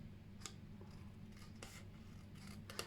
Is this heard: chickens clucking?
no